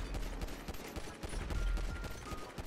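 Rapid gunfire from a GTA FiveM game rattles through, a steady stream of sharp close shots in quick succession without pause, no talk over it.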